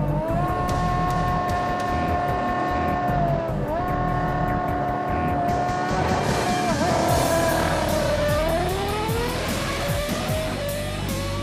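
A race car accelerating hard in a drag race against a boat and a bike: a loud, sustained engine roar that rises through the gears, with pitch drops at each shift, close and continuous.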